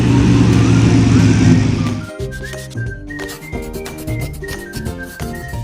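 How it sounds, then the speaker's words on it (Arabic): A tractor engine rumbles in a steady, loud, low drone for about two seconds, then drops away under a plucky tonal melody. "تراكتور جرار"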